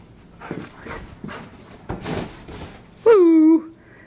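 A poodle indoors lets out one short high whimper near the end, following soft breathy snuffling and movement sounds.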